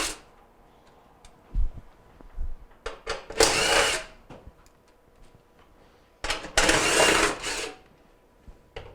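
A power drill removes quarter-inch screws from the back panel of a Jenn-Air, Whirlpool or Maytag stove. Close by, two long whirring runs stand out among several short bursts and clicks, with no talk.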